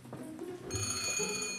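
An old telephone bell rings in an English country house, starting after a brief low murmur and then clanging continuously and loudly to the end.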